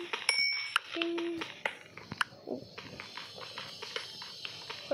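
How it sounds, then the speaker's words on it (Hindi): Minecraft experience orb pickup chimes from the video game, a few bright high tinkling dings early on, with clicks and soft game noise continuing through the rest. "एक्सपी क्या आवाज हो ना, टिंग टिंग टिंग"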